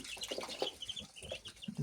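Chicks cheep softly in quick, high-pitched peeps, several overlapping at close range under a faint background.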